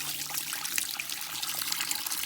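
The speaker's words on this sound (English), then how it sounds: "So all we're going to do is pour some water in here." Water poured from a jug over malted grains in a BrewZilla/Robobrew all-in-one brewing system during sparging for a Citra SMASH beer: a steady, close splashing trickle that runs evenly throughout without talk.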